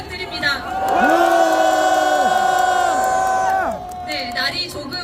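A large crowd at a candlelight rally calling for President Yoon Suk-yeol's impeachment, on the steps in front of the National Assembly main building, lets out a loud, sustained cheering roar for about three seconds. A single voice speaks briefly at the end.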